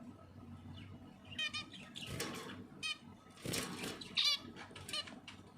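Two baby birds in a nest give soft chirps, flutters and rustles in short scattered bursts, close but fairly quiet, with no talking during the sounds.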